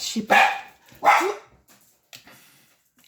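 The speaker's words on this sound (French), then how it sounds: "c'est juste mon chien qui pétait un câble." A dog barks twice in loud, close bursts, followed by a shorter, softer yip as it gets agitated indoors, while a person briefly speaks in French.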